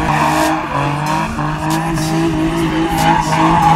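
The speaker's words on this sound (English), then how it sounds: "I need you to push on my gas pedal where I put the seafoam in." An Infiniti G35 coupe engine revs steadily with the gas pedal held down after a Seafoam treatment, a loud, continuous droning roar that rises and holds close by without any talking.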